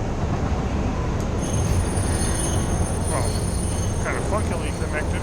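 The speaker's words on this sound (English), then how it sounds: "The train cars should reconnect." Train cars coupling back together in the video game Satisfactory, a dense, loud rolling rumble of rail wheels with faint high squeals and clanks toward the end, steady throughout with no speech.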